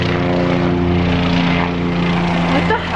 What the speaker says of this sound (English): you hear that helicopter?